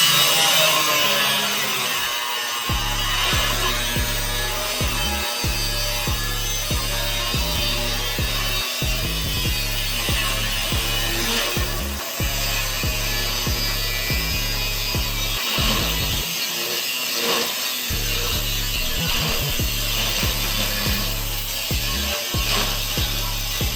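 A power tool cutting steel fenders for a custom overlanding trailer, a loud harsh rhythmic ratcheting grind repeating in steady strokes with brief pauses, alone without talk.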